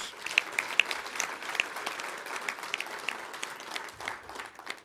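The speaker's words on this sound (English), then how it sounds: "I think we should give the head of state the big round of applause." An audience at a public servants' address applauds the head of state, with many hands clapping in a dense, steady patter that holds for several seconds before tapering off.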